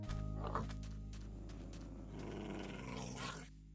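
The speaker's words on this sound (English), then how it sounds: "Oh, these dogs are right pissed." Angry dogs growl continuously in the video game From Ashes: Reborn, a dense, low rumbling snarl that stays loud and close throughout, swelling slightly before easing off at the end.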